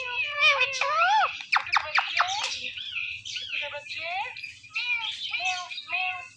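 A ringneck parrot repeatedly mimics a cat's meow in short, squeaky calls, interspersed with chirps and a person's voice.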